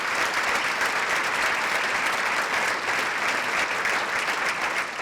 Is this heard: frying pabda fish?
no